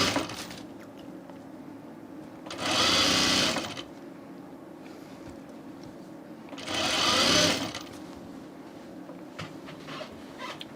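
A sewing machine stitches a flat felled seam on a Pierce shirt in two separate bursts of fast, buzzing running, each lasting about a second, with quiet room sound between them and no talk over the stitching.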